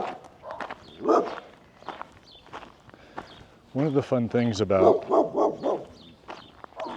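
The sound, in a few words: dogs barking in a small town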